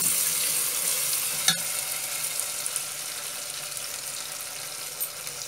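Ginger and garlic fry in a pot for a sorrel leaf curry, giving a steady, hissing sizzle close by, with a single clink near the start and a few faint knocks as it cooks.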